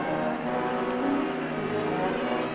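An engine runs at a steady, fairly loud pitch with a rich harmonic drone and a slight swell in revs midway, heard continuously without speech.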